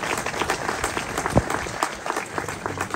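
Applause at an embassy national day reception in Rabat, a burst of many hands clapping close by, busy and uneven with individual sharp claps standing out.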